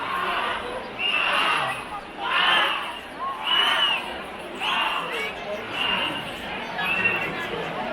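Festival crowd in packed Kathmandu streets during the Bisket Jatra chariot procession, as men haul a giant chariot: rhythmic waves of chanting and shouting from many voices rising and falling about once a second over a steady crowd murmur.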